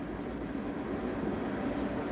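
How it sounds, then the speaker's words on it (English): A BNSF freight train passes at a distance, giving a steady, faint broadband rumble that holds at an even level throughout, with no voices. "You guys can hear the train? It's got to be BNSF."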